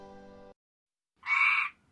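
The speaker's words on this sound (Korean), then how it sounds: "청개구리." Green tree frog croaking as a storytelling sound effect: a short buzzy tone, a pause, then one loud, raspy croak lasting about half a second, alone with no talk.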